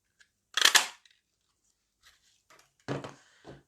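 Scissors snip through a scrap piece of red paper for a happy birthday card: one loud burst of cutting, a few faint ticks, then another cluster of snips near the end, close by and with no talking.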